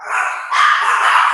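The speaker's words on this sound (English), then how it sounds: "I'm sorry, that's my dog." A dog barks close by in two loud, sharp, drawn-out yelps, one straight after the other, with no voices.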